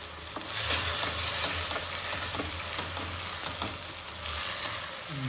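Vegetables and makhana stir-frying in a pan for veg sagu, a steady sizzling hiss with scraping stirs of a spoon against the pan throughout.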